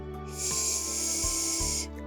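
A voice imitates a long, steady hiss, breathy and sustained for over a second, fairly quiet and close, then stops.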